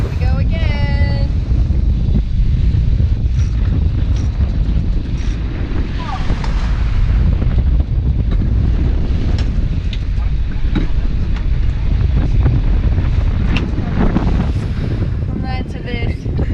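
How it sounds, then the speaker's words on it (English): Strong gusting wind of about 23 knots roars over a sailboat at sea in wild, rising waves, a loud, constant buffeting rush with water noise underneath throughout. "It's like gusting 23, sea 25, seas have gotten wilder."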